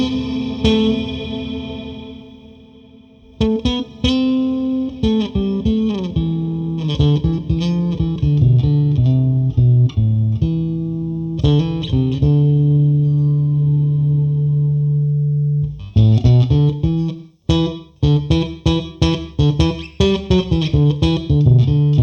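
Bass guitar played through a Lekato Tank B multi-effects pedal set to a long delay, with plucked notes and riffs trailing into repeating echoes, loud and continuous with no talk.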